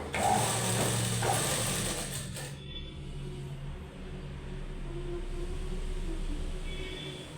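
A sewing machine stitches a blouse with a steady, close mechanical whir and fast rhythmic clatter, louder at first and then settling into a softer run.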